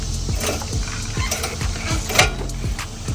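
Metal tapping and knocking against a bolt in the suspension of a Nissan 370Z, a run of sharp close clicks with a ratcheting, mechanical character, steady and fairly loud with no talking.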